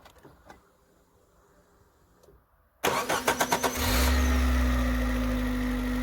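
A Suzuki Jimny fitted with a converted 1.6 engine cranks with a few rapid starter pulses, then fires on its first start and settles into a steady idle, heard up close.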